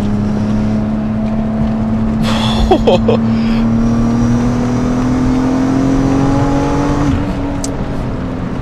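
Alfa Romeo 147 GTA engine climbing steadily toward 5000 rpm in a long, loud, rising drone, with brief sharp noises over it and a voice talking partway through.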